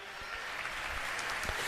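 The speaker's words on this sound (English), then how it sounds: "A little bit of applause." Scattered applause and light clapping from fans in the stands at a USA BMX national race in Land O' Lakes, steady and moderate over a broad crowd wash, with no talk.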